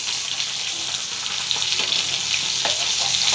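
Cauliflower paturi wrapped in a leaf fries in a pan with a steady, close sizzle, a bright crackling hiss that carries through the whole moment, and no one speaks.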